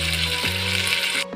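Ground tomato, ginger, chili and garlic paste sizzles loudly as it goes into hot oil with onion for a black chickpea curry, a dense continuous frying hiss with a brief stirring scrape.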